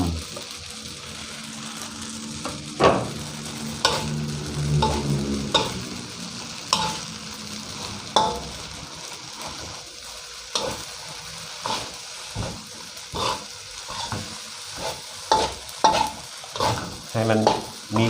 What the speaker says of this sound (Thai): พอเราผัดน้ำเริ่มแห้ง วุ้นเส้นก็สุกดีแล้วนะครับ